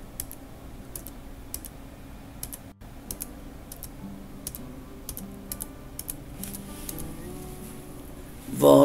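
Keys on a computer keyboard tap in sparse, separate presses at a moderate level over a low background hum, with a louder burst at the very end.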